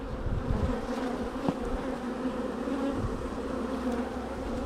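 Honey bees in an opened forced brood box give off a steady, dense buzz, close and continuous throughout, with no talking.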